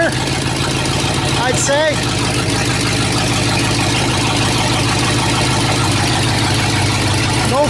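An old engine that had sat for about a year, now idling after starting, with a steady low rumbling chug running throughout and people talking over it up close.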